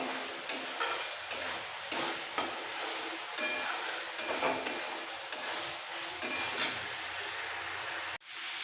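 Morola fish jhal curry being stirred and mixed with a pinch of garam masala in a pan, a spoon scraping and clinking in an irregular rhythm over a steady sizzle, close up, ending in a sudden drop.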